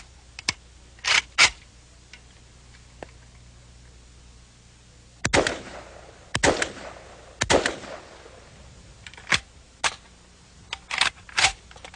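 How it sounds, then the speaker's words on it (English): A semi-automatic firearm being dry-fired and worked by hand: a series of sharp metallic clicks and clacks from trigger pulls and the action cycling, close by and spaced irregularly with short pauses between. "One pull of the trigger, you get one round. If you get another round, you have to pull the trigger again."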